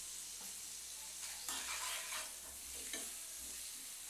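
Eggs fry in a pan with salt for an egg chili curry, a soft, steady sizzle with intermittent scraping and stirring sounds from a spatula, fairly quiet and without any voices.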